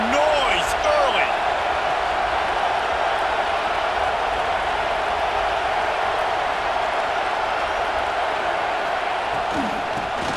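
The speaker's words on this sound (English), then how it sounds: "This crowd bringing the energy and noise early" Dense, roaring stadium crowd at a college football game in a sports video game, a loud constant wash of noise with scattered whistles and shouts over the whole stretch.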